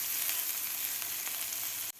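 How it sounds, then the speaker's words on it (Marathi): Capsicum frying in a pan for a green pea and spinach veg cutlet, a steady close sizzle with a bright, hissing crackle that runs unbroken before cutting off abruptly near the end. "शिमला मिरची सुद्धा व्यवस्थित फ्राय करून घ्यायची आहे।"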